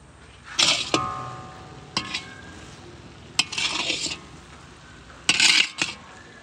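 A spoon scrapes and clinks against a pot in several short bursts as rasgullas are stirred into thick carrot halwa, with quiet pauses between strokes.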